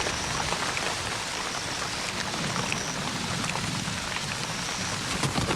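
Heavy rain pounds down in the Serengeti, a dense, loud, unbroken hiss of drops striking the ground with no voices, steady from start to finish.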